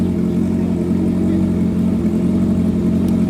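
A Honda CB650R motorcycle with a full exhaust system runs loud and close, its engine droning steadily in a dense, even roar with no distinct rev spikes and no talk.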